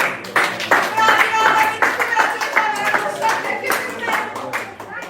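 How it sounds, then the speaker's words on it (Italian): Group applause breaks out at a kizomba dance lesson in Italy, a dense run of handclaps from the class lasting several seconds, with voices talking over it. "bene, applauso."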